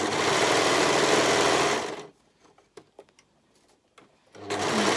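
A sewing machine stitches a brindle-and-twig lounge sweatshirt in a loud, close, continuous run. It stops for a couple of seconds of near quiet with faint clicks, then starts up again.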